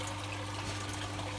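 Bottled RO water, 500 ml, being poured into a reef aquarium, a steady watery pour and trickle running continuously at low level with a faint background hum.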